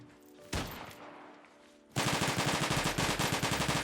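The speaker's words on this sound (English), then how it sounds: "Sniper rifle." Video game sniper rifle fire: one sharp shot, then after a pause a rapid string of repeated loud blasts in quick even succession, close and dominant, with no talk.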